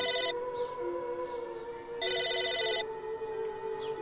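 An electronic telephone ring in the video game Psychonauts sounds in two distinct bursts separated by a pause, warbling and moderately loud, with no talking.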